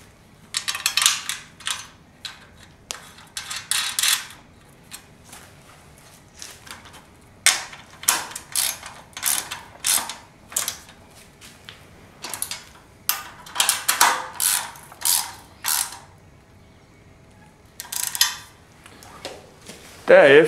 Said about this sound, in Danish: Det første man gør er at sætte fjederbeslagene på